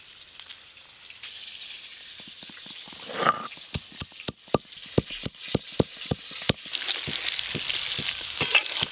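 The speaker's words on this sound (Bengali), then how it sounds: "আমার এদিকে আলু ভাজা হয়ে গেছে" Sweet potatoes fry in a pan at a village kitchen, a soft sizzle building into a brighter hiss, punctuated by a run of sharp, evenly spaced clicks and scrapes from a utensil against the pan.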